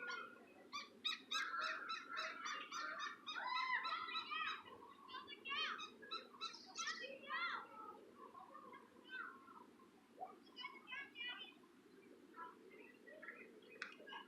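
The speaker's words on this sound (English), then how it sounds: "You guys hear all the birds chirping and everything." A busy chorus of bird chirps and honking calls in Reid Park, loud and overlapping at first and then thinning to scattered calls, over low outdoor background noise.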